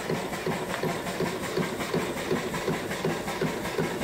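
A small model steam engine and boiler chuff along in a steady, quick rhythm, each exhaust beat clear and moderately loud, with faint mechanical clatter beneath.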